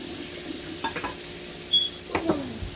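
Soft scraping and clinking of a utensil stirring strawberry waffle batter in a bowl, a few irregular strokes, close by, with no talking.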